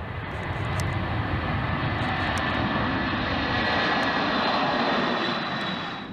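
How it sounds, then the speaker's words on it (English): Aircraft engine roar during a touch-and-go, a plane landing on the runway and taking off again without stopping; a steady, loud drone swells and then eases slightly, with no talk. "the pilot lands on a runway and takes off again without coming to a full stop"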